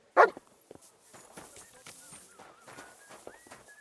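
A dog in the medieval role-playing game Kingdom Come: Deliverance 2 gives one loud, close bark at the start, followed by quieter game ambience and faint movement sounds.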